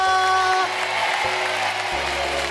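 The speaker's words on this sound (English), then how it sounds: "Let's have a huge cheer for our farm animals." An audience at a family music show gives a burst of applause and cheering, a steady wash of clapping under a sustained musical tone, with a voice speaking over it.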